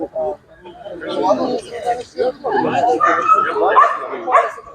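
Young Russian-European Laika hunting dogs at a dog show ring yip, whimper and give short barks in uneven bursts close by, mixed with people talking.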